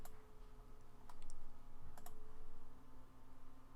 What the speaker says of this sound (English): each time you click the left mouse key, you'll get a little anchor point being added